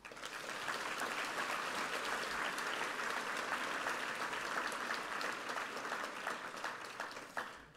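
A roomful of people applauds at a Holocaust Awareness Week evening event, with steady, full clapping that holds for several seconds before tapering off at the end.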